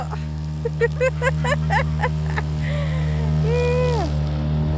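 A tractor cutting grass, its engine holding a steady, droning hum throughout while a voice talks over it close by.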